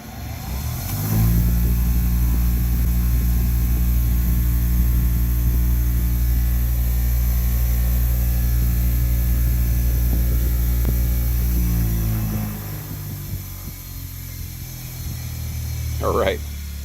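A restored bench grinder starts up and runs steadily with a loud, even motor hum, then its tone drops as it winds down near the end while someone speaks briefly.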